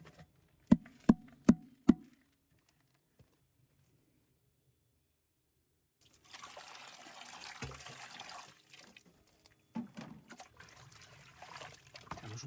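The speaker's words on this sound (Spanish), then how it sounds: "Un poquito de agua para apurar bien el biochar, porque es un biochar muy fino y hay que echarlo todo." Water poured onto very fine biochar mixed with worm humus, heard as a steady trickling splash over several seconds after a few sharp knocks and a quiet pause, fairly close and alone.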